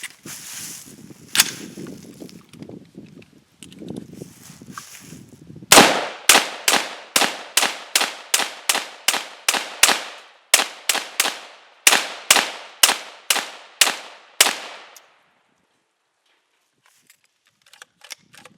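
An AR-15 rifle fed from a RamLine Combo magazine fires about eighteen sharp, loud shots in a steady rapid string, each one cracking and then ringing off, after a stretch of low rustling and handling noise; the firing stops abruptly and near-silence follows.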